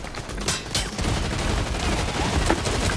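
Sustained automatic gunfire sprays from a first-person shooter game, a dense crackling fusillade of rapid shots that runs loud and unbroken for the whole stretch with no pause.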